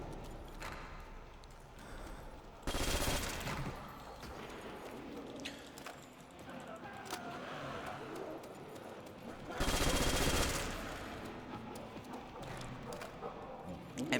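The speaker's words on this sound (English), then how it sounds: "this gun is basically like a hybrid of like a MG and an assault rifle" A hybrid machine-gun/assault rifle firing in a Call of Duty: World at War Nazi Zombies mod, with two loud bursts of rapid automatic fire separated by several seconds of busier game ambience and a voice talking throughout.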